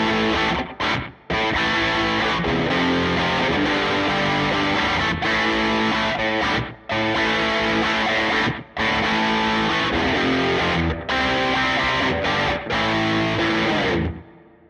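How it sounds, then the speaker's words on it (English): An electric guitar runs through Rodent distortion with a short slapback echo on a Fender Tone Master Pro, playing loud, thick, sustained chords broken by a few brief stops. "So you can hear that short slapback echo, right?"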